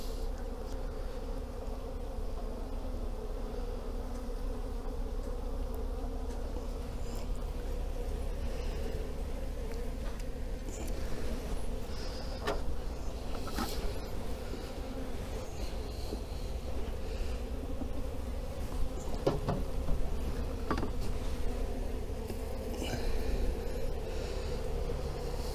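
Honeybees buzzing during a beekeeper's hive inspection of a weak colony, a dense continuous low drone from many bees close by, with faint knocks and handling noises scattered through.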